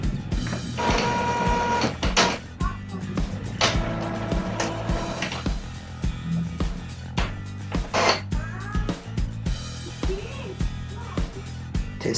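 Epson T50 inkjet printer running a cartridge test, a busy mechanical run of whirring motor passes, clicks and clacks in irregular bursts, heard close and loud with no voices.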